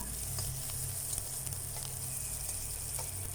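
Garlic and onion sizzle steadily in a pan while being sautéed for a Filipino vegetable dish. The frying is soft and even with a few light crackles, and no one speaks.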